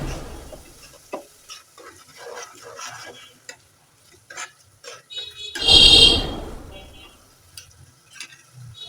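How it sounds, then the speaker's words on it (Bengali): Frozen chopped tomatoes cooking in a spice masala for a pangas fish bhuna, with close scraping stirring and soft intermittent sizzling, then one loud, hissing sizzle surge midway before settling back to quieter stirring. "এখন আমি ফ্রোজেন করে রাখা টমেটো কুচি দিয়ে দিলাম।"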